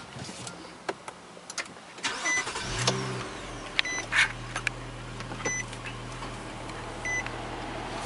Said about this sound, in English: now we'll start up the car.